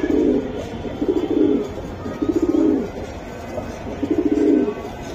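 A racing pigeon coos close by, giving four rhythmic throaty bursts about a second apart over a faint background hum.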